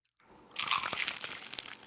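Someone bites into a flaky-pastry chicken and mushroom handheld pie, giving a short, close, crisp crunch and crackle of shattering crust.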